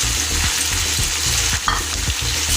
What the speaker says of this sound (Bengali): টমেটো টুকরো করে যে কাটা রাখা আছে সেগুলোকেও দিয়ে দিচ্ছি। তার সঙ্গে চেরা কাঁচা লঙ্কাগুলো দিচ্ছি,